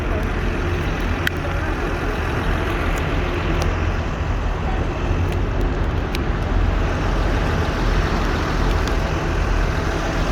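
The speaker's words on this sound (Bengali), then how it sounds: "সুন্দর অত্যাধুনিক বাস, এই বাসে করে আমরা নিয়ে আসছি।" A modern bus carrying pilgrims near Mecca, heard as a continuous loud engine and road rumble from on board, steady throughout with occasional faint clicks.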